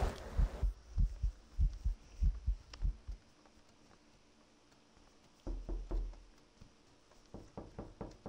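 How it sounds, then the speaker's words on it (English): Heartbeat effect in the Roblox horror game Apeirophobia: deep, close thumping pulses in a steady rhythm, falling quiet for a couple of seconds before the thumps return and quicken. "Heartbeat."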